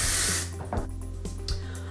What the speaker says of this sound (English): I'm going to hit it with a texturizing spray